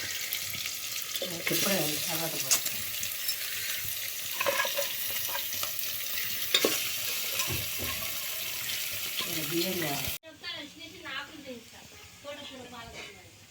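Onions or spices frying in oil in a pot over a wood-fired stove before mutton goes in, a steady close sizzle with stirring scrapes and a few splashes, under continuous talk.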